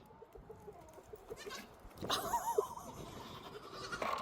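A goat bleats loudly in a wavering, quavering cry, with a quieter bleat earlier and more animal noise after it, heard from a played clip without talk.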